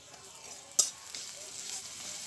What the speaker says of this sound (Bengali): রসুন বাটাটাকেও আমি ভেজে নেব